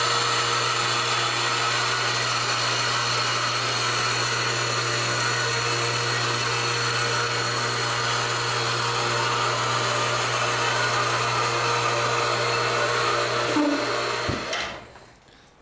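Homemade freight elevator lift in a pole barn running on a 9-foot lift, a steady loud motorized drone that holds level and then cuts off abruptly near the end as it reaches the base.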